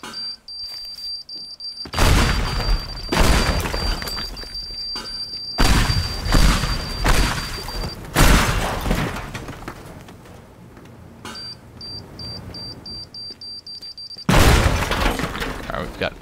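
Bombs blowing apart a building in the destruction game Teardown, a run of loud crashing booms and shattering debris in several bursts, with a steady electronic beeping tone between blasts.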